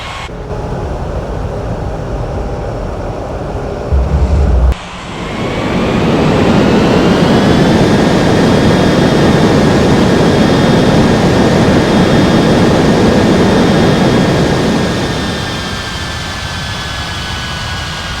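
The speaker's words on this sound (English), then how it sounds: "China Southern 7581, ready for takeoff runway 13 right." A China Southern jet airliner spools up and rolls for takeoff from runway 13 right in an air traffic control game, a steady loud engine roar with a rising whine that holds, then eases off toward the end.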